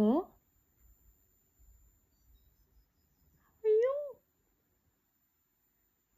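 A cat meows once, a short rising-falling call at close range, after a brief voice at the start and some quiet handling noise.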